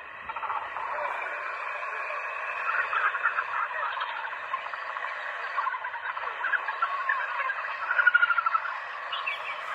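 A dense African jungle ambience of continuous chirping, croaking and buzzing creatures, steady and moderately loud throughout with no talking.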